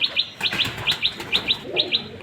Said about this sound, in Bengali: আমার বাড়ির ছাদের ওপরে আমি কবুতরের ঘর বানাইছি এবং সেই কবুতর আপনাদেরকে দেখাবো